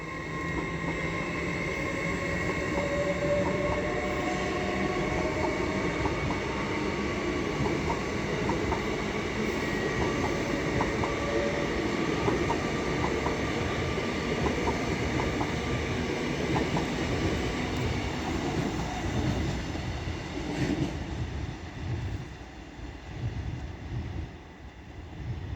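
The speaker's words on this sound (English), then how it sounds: "And now going is the 170 Turbo Star off to Poppleton." A Class 170 Turbostar diesel unit pulls out of York station, its close, steady engine rumble and wheel clatter holding for most of the stretch before thinning slightly toward the end, with no speech.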